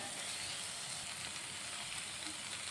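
Tomatoes sauté in a pan for soya masala curry, giving a continuous even sizzle and hiss that holds steady throughout, quiet and close with no voices.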